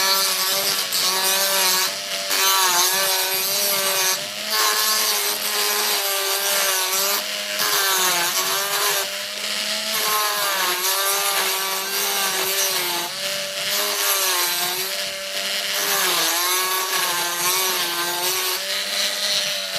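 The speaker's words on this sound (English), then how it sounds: "So turn on your non-Dremel tool" A rotary tool whines steadily as it drills out glued cotton, pitch wavering with pressure, continuous and close with brief dips.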